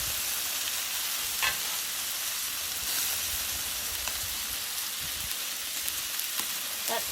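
Chicken sizzles on a nonstick grill mat over an outdoor grill, a steady close frying hiss with a few faint pops and crackles throughout, no talking.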